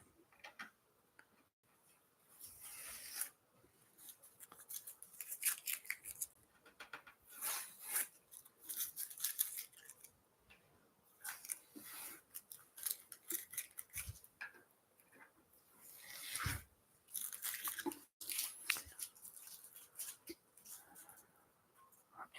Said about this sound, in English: right now, I'm going to remove the tape on this illustration